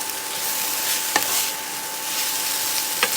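A small handful of baby Bella mushrooms fries in a pan with a constant, loud sizzle, while a utensil scrapes through them twice, close up and with no talking.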